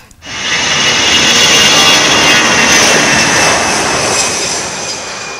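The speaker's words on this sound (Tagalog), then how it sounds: "Panahon na para magpalipad ako ng aktwal na eroplano." A light training airplane at a Philippine aviation academy, its engine roaring loud and steady from just after the start and holding a constant drone throughout.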